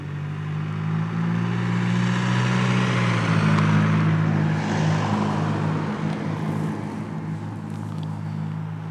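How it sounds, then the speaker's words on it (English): A diesel car engine drones steadily throughout, its low rumbling tone shifting slightly midway as the car goes by on a road in the NW Scottish Highlands; no voices. "now that noisy diesel's cleared off"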